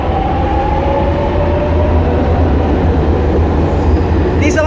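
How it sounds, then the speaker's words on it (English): A metro train rumbles steadily at a station in Milan, Italy, a loud, close, continuous roar with a faint rising whine and a brief high squeal near the end. "metro station in Milan,"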